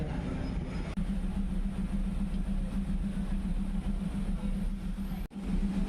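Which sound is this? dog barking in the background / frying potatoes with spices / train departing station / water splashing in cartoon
train departing station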